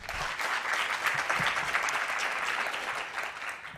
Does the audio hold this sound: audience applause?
yes